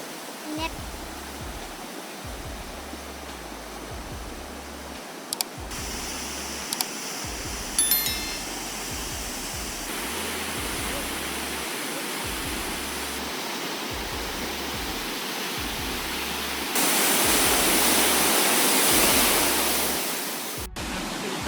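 Floodwater rushes through a flooded town in Colorado, a loud, continuous roar of churning water that swells toward the end, with a few faint clinks and knocks over it.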